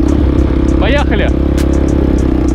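A pit bike engine runs steadily close by with a low, buzzing drone while someone briefly talks over it.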